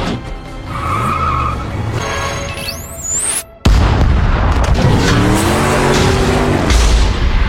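A time bomb explodes in a Transformers animated film, a sudden loud broadband blast that cuts in mid-clip and roars on with rumbling debris after a brief near-silent gap, following earlier whooshing and engine-like effects.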